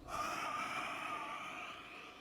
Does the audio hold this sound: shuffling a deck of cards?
no